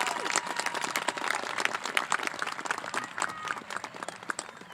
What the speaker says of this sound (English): Please join me in giving a warm round of applause of congratulations to our extraordinary valedictorian, Ibrahim Galmi